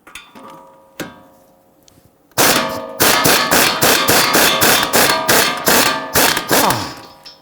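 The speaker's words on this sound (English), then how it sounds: "use our 21mm socket and loosen our ball joint nut" A 21mm socket and ratchet loosening a ball joint nut on a 2011-2023 Dodge Charger, giving a few separate metallic knocks followed by a steady run of rapid, loud ratchet clicks up close.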